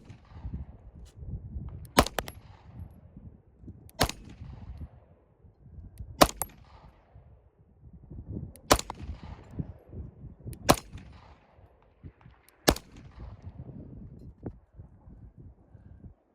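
A Beretta M9A3 pistol fires about six loud, sharp single shots spaced roughly two seconds apart outdoors, with double-action and single-action trigger pulls, a fainter shot near the end, and low rumbling between shots but no speech.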